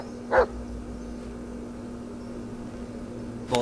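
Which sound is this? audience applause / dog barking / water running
dog barking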